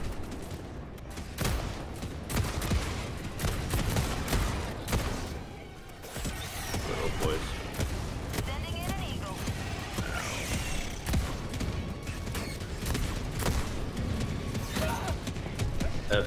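Gunfire in the Helldivers video game against Terminid bugs, dense bursts of rapid shots and crashes throughout, with voices talking over the action.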